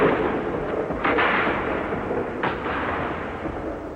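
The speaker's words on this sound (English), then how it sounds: "artillery and machine guns in the German second line opened up on them" Artillery and machine gun fire on a First World War Western Front battlefield rumbles as a dense, continuous roar, with a couple of sharper bursts standing out above the steady din.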